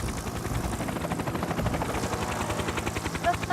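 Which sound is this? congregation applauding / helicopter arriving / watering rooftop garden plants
helicopter arriving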